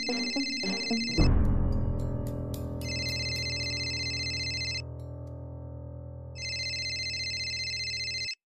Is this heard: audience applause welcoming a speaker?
no